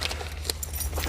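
A bunch of keys jangles and clinks close by while someone tries them in a lock, light metallic rattles over a low hum.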